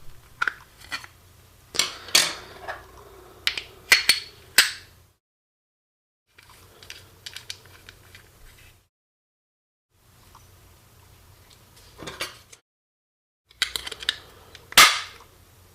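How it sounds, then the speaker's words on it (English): Sharp metallic clicks, snaps and scraping handling noises as a CO2 cartridge is fitted into a Walther PPKs BB pistol, coming in close bursts separated by brief silences. "Here's how you insert the CO2."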